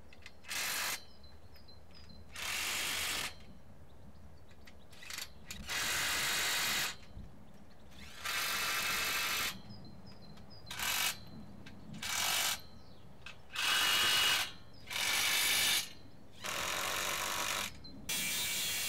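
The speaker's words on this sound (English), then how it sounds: "tighten all nuts, bolts and clamps" A ratchet tightens nuts and bolts on aluminium polytunnel side rails, with repeated bursts of rapid clicking separated by short pauses, close and fairly loud with no talking.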